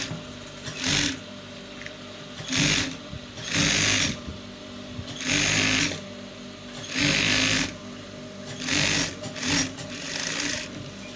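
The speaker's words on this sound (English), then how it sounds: "So I'm sewing out ½ inch as shown." A sewing machine stitches a half-inch seam along the crotch of rope trouser fabric, running in about eight loud, steady bursts separated by short pauses, with no talking.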